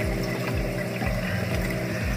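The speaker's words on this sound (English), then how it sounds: "This is the bubble trap. And this is the Mag 7 return pump." A Mag 7 return pump runs in the sump of a DIY 55 gallon aquarium, giving a steady low hum with pulsing undertones and a wash of moving water.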